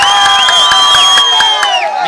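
A political rally crowd cheers and whoops loudly and continuously for a short stretch, a dense wall of voices with some whistling tones and scattered claps.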